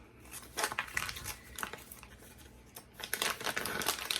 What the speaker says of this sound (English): So I just have my kitchen scissors and I cut them into thirds.